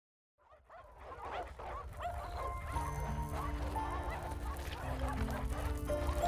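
Stray dogs in a video game whining and yelping over a dense, layered game soundtrack that swells in from silence and stays loud throughout, no one talking.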